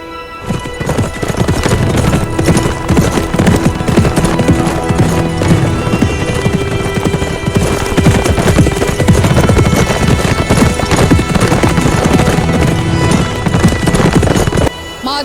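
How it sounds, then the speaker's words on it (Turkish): An armored horse carrying a heavy rider gallops with loud, steady clip-clop hoofbeats and an occasional whinny, set against a dense, loud background of music and ambience that runs almost the full length. "Şu zırhlı, binicisi ağır olan at."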